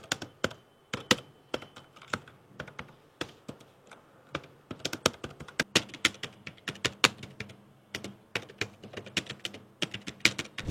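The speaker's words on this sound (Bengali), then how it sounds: "আমরা একটা টাইপিং টেস্ট শুনে নিব এবং শুনে বুঝতে পারবো যে এটা টাইপিং কিরকম হইতে পারে" Typing on a Keychron B6 Pro keyboard, a quiet low-profile board: steady bursts of soft, close keystroke clicks in irregular rhythm, with no voices.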